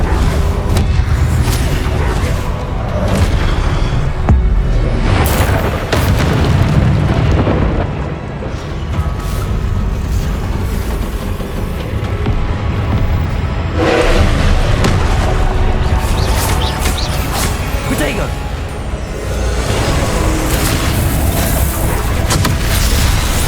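Repeated booming blasts from the Confringo fire spell in Hogwarts Legacy on PS5 erupt over a loud, dense game soundscape, with heavy rumbling bursts throughout.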